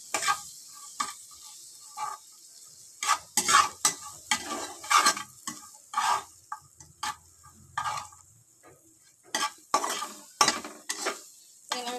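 Bitter gourd frying with turmeric and salt in a pan, stirred with repeated scraping strokes of a spatula, each stroke a separate crisp scrape above a faint sizzle, irregular but frequent.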